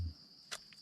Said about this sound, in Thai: นี่เสียงปาด